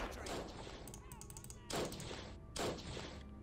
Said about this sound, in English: Grab our artillery gun again and take that vehicle out, no problem.